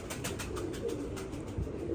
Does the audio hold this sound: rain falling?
no